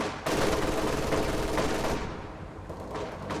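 Sustained machine gun fire rattles in Company of Heroes 2, with dense rapid bursts close and loud, some distant gunfire mixed in, easing slightly toward the end.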